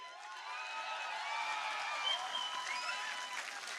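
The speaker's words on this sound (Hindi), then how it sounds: "तालियां रुकनी नहीं चाहिए।" Audience applause at an annual cultural festival, following a Hindi poetry recital: a steady wash of clapping from a crowd, moderately loud and sustained throughout without any talk over it.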